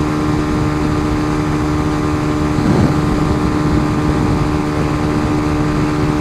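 Motorcycle cruising at about 70 mph, a loud, steady droning engine with wind rush running throughout, no talking.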